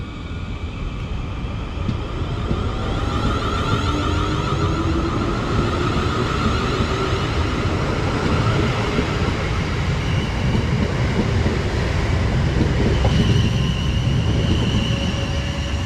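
A Class 450 electric train pulls out of Milford station in Surrey, bound for London Waterloo, a loud, continuous rumble and rolling roar close by that holds steady throughout.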